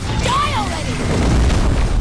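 A grenade goes off in the Terminator: Resistance shooter, a loud low boom with a rumbling tail that fills the moment, with a shouting voice cutting through the blast.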